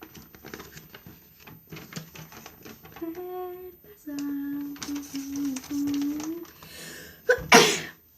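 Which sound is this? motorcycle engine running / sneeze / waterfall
sneeze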